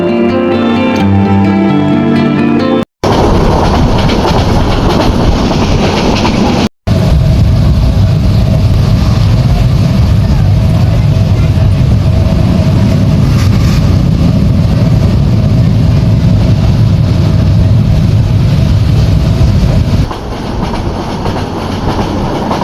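A train running from Cox's Bazar to Dhaka rumbles loudly and continuously from onboard, with rhythmic wheel clatter and a dense roar after a brief opening.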